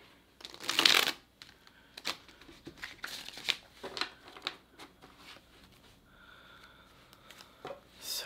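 A tarot card deck is shuffled in a quiet room, opening with a loud riffle burst, followed by a string of softer, irregular card flicks and slides close by.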